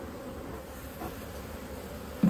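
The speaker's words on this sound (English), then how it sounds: "Look at all those bees. Isn't that a healthy looking colony?" Honeybees in a healthy hive colony being inspected during winter preparation, a steady low hum of many bees close by, with no voices.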